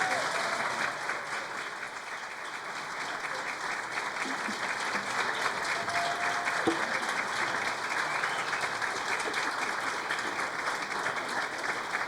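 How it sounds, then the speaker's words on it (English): A crowd at the opening event of a community resource center claps in sustained, even applause for about twelve seconds, a dense and steady roar of hands heard from within the room with no speech. "Let's give him another round of applause."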